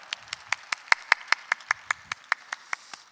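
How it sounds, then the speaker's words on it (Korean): Steady, evenly paced clapping rings out in a church during a Sunday young adults' worship service, sharp claps falling about five per second, fairly close and alone without talk. "하나님께 영광의 박수 올리겠습니다."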